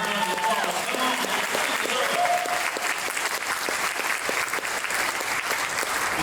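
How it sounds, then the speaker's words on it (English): Sustained applause from a large audience, steady and dense clapping filling the whole stretch with crowd noise mixed in. "let's give all our nominees and award winners a large round of applause"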